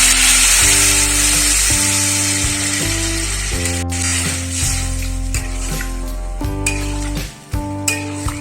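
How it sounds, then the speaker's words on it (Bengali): Water splashes into a hot pan of vegetarian aloo potol bora curry and it sizzles loudly. Stirring scrapes sit under a constant mechanical hum, then the sizzle eases off toward the end. "এর মধ্যে একটু জল দিয়ে দিচ্ছি"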